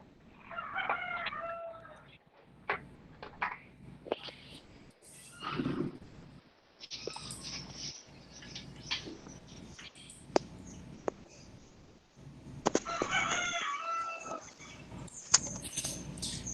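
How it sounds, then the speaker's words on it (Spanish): A hen clucks in short, scattered bursts somewhere in the distance, with a rooster-like call among them, faint and intermittent over quiet room noise and occasional clicks. "Por ahí se escucha una gallina"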